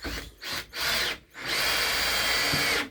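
A power drill drives 32mm screws into a wooden indoor barn owl nest box: two short whirring bursts, then one long, steady, loud run close by.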